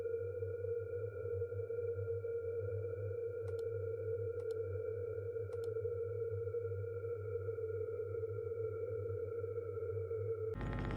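In the first level of the video game Observation Duty 6, a camera distortion effect sounds as a steady, low electronic drone with faint sonar-like tones and brief clicks, continuing alone for several seconds before a sharp cut at the end.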